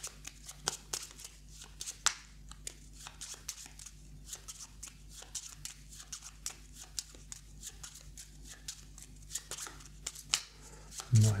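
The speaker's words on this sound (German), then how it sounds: "Neu mischen." Playing cards shuffled for the board game Maquis, a long run of crisp riffling and flicking bursts in steady rhythm, close and fairly quiet, with a brief voice at the very end.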